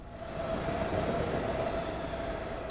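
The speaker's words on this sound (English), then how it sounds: "The classic, like, solemn train ride is what I'm sensing right now." A video game train rumbles steadily through a tunnel, a dense continuous roar with a faint sustained whine on top, no voices.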